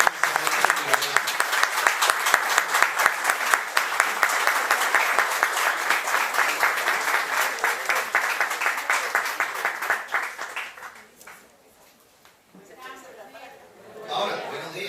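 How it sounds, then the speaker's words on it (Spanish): Loud audience applause welcoming children from a Bolivarian-thought study group at an education event, dense clapping for about ten seconds before fading out, followed by a voice speaking. "Vamos a recibir con un fuerte aplauso a los niños"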